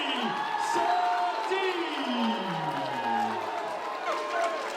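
A fight crowd at the UKFC 20 flyweight bout cheers and whoops loudly through the fighter introductions, a dense roar of voices with rising yells throughout.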